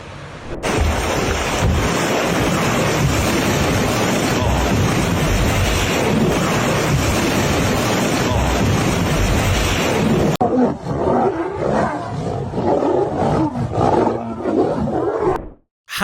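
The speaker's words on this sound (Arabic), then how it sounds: "الآلاف بيعبروا نهر مارا في مشهد جنوني" A wildebeest herd crossing the Mara River: a dense, roaring wash of hooves, splashing and animal calls, loud and continuous before thinning into scattered grunts, with no talk.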